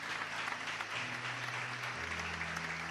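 A church congregation applauding, a dense, even wash of clapping held at steady strength throughout, with a faint low tone sounding beneath it.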